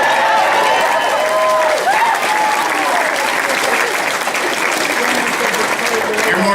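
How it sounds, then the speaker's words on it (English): Audience applause at a political campaign rally, a dense sustained wall of clapping from a large crowd, loud and close throughout with no gaps. "You're more than welcome to clap every time I pause."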